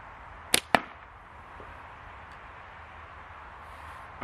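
Two sharp arrow releases from a bow aimed at a target, one hard snap quickly followed by a second crack, close by against quiet outdoor background.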